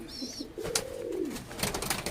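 Madrasi pigeons cooing in a pigeon loft, a soft rolling coo heard nearby against faint background noise, with a short higher bird chirp at the start.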